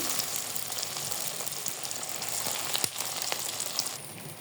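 Fish chops, coated in a mix with egg, fry in oil over medium heat, giving a loud, continuous sizzle that stays steady throughout.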